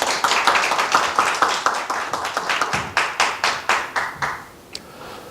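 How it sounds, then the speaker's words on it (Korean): Audience applause at a Tuesday Talk tech meetup on progressive web apps: steady, rhythmic clapping from a modest crowd, close and fairly loud, thinning out toward the end. "큰 박수 부탁드립니다."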